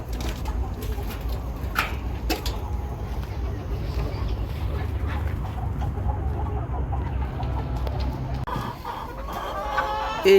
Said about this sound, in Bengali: যেখানে অনেক মোরগ আছে।